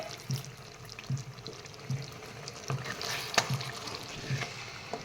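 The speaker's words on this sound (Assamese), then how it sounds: "এইখিনি পানী দি দিছোঁ।" A small amount of water is poured into a pan of beetroot and chicken on the stove, a faint trickle and splash with a soft, regular low thumping underneath and a brief brighter spike midway.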